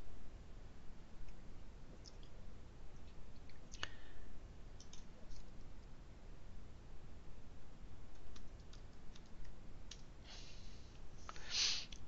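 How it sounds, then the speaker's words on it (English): Computer mouse clicks in a quiet room, a few faint sharp ticks scattered irregularly over steady low background noise. "I just click down here."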